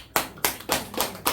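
A short run of about five sharp, evenly spaced hand claps from a church congregation during a sermon, fairly close and with no voices over them.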